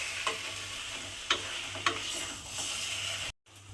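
Taro stirred with grated coconut in a hot pan for a vegetarian taro-leaf dish, a low sizzle with a few sharp scraping strokes of a spoon, ending in a brief cut to silence.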